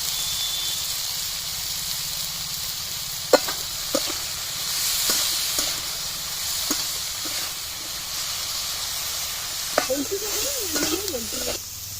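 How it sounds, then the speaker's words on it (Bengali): Brinjal slices frying in hot oil in a pan, a steady bright sizzle with scattered clicks and scrapes of stirring, heard close with no talk. "বেগুনটা ভাজা হয়ে গেছে"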